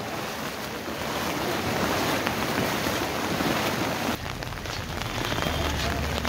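The swollen, flooded Dhobi Khola river in Kathmandu rushes with a dense, continuous roar of churning water, loud and close, and no voices are heard.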